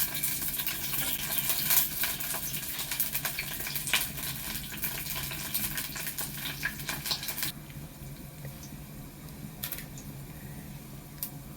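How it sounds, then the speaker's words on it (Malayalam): Onion, chili and curry leaves sautéing in a pan on a wood-fired village stove, a continuous crackling sizzle with scattered stirring scrapes, louder at first and then softer and sparser toward the end. "ഇപ്പം ഉള്ളി, മുളക്, കറിവേപ്പില ഒന്ന് വഴന്നു വരട്ടെ."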